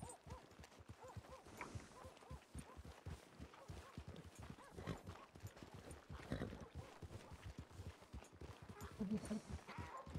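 Horse hooves clip-clop steadily in a western roleplay video game, a quick regular rhythm running the whole time, close and fairly loud, with scattered talk and other game sounds mixed in.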